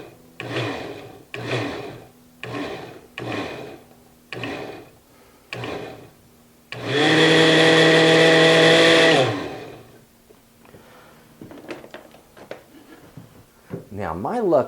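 A kitchen blender pulses salsa ingredients in one loud, steady whir of about three seconds, between stretches of speech before it and after it.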